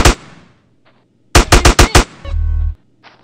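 Gunfire in a GTA San Andreas firefight: one sharp shot with a ringing tail, then a quick string of five loud close shots followed by a low buzzing burst, with no talk.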